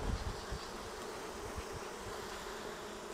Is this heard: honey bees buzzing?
yes